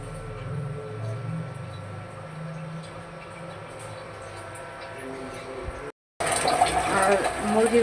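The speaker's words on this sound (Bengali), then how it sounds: "আর মুরগির মাংস এখন আমি একটু পানি দিয়ে দিব" Water poured into a pot of well-browned Sonali chicken pieces on the stove, a steady gushing pour that cuts out briefly, then returns louder and brighter.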